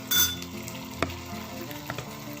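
Kerala-style spicy, tangy ginger curry bubbles and sizzles softly in a pan, with a few light clinks of a spoon against the pan, faint and close, without any talk.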